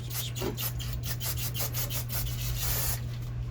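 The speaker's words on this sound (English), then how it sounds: "Let's give it just a lick of brake clean." Brake cleaner being wiped across the flat sealing surface of an LB7 Duramax engine during assembly, a steady close rubbing and rasping of a rag over metal with a constant low hum underneath.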